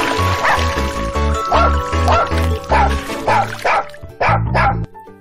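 A dog barks and yips in a quick run of repeated, close barks with a few whimpering notes, loud over low background tones.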